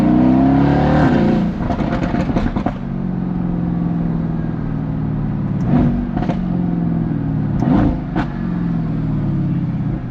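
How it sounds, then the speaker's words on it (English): A loud Mercedes-AMG Black Series sports car engine drones steadily, then revs sharply in several quick bursts, close by and with no talking, at a cars and coffee meet. "this sounds like a race car"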